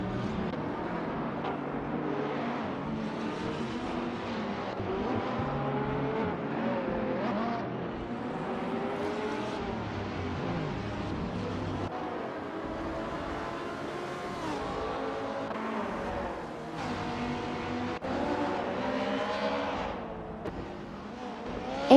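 Supercars race around Seattle Circuit in a video game, their engines droning continuously with rising and falling revs as cars shift and pass, steady and fairly loud throughout.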